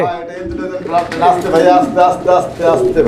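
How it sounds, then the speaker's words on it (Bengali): A pair of black Mundian pigeons coo softly in repeated low, throaty phrases close by, while someone talks over them. "তো এইটা মুন্ডিয়ান কবুতর একটা জোড়া ব্ল্যাক মুন্ডিয়ান"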